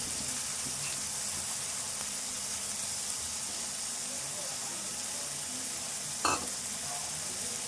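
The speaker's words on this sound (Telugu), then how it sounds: "శనగపప్పు ఒక రెండు గంటల ముందు నానబెట్టిన ఈ నానబెట్టిన శనగపప్పు కూడా వేసుకుందాము" Soaked chana dal sizzles in hot oil in a pan, giving a steady, soft frying hiss with faint stirring and one brief clink near the end.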